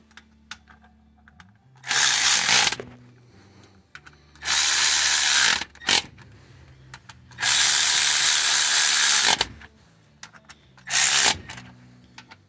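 A ratchet wrench with a 10 mm socket works LS engine exhaust cover plate bolts, four bursts of fast, loud clicking ratcheting separated by short pauses, close up with faint background noise.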